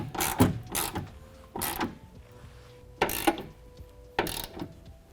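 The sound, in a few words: ratchet with 13mm socket tightening hood hinge bolts on Ford F-150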